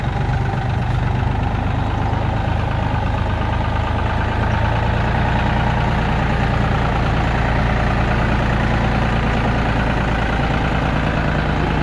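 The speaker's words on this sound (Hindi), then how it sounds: "यहाँ ट्राली में मोरंग डाली जा रही है, ऐसे करके भरता है ये ट्रैक्टर" A tractor engine idles and runs steadily while a trolley is loaded with sand, a continuous loud, low rumble with no pauses or talk throughout.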